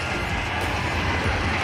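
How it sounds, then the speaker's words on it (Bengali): A train approaches near a village field outside Raipura, giving a continuous broad rumble and rushing noise of rail travel that stays steady and fairly loud throughout, with no speech. "এই যে একটা ট্রেন চলে আসছে।"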